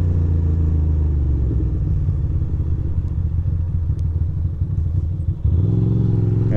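An overheating motorcycle engine rumbles steadily while riding slowly through city streets, a loud low throb that shifts in pitch near the end as the rider changes speed.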